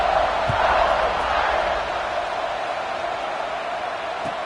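A stadium crowd roars at a college football game during a kickoff, with a broad, sustained swell of cheering that eases slightly and holds steady, heard from a distance.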